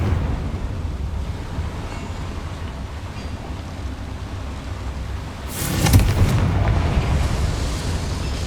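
A Confringo blasting spell from the Hogwarts Legacy video game goes off as a sudden loud burst about midway, then rumbles on under a noisy, roaring game soundscape.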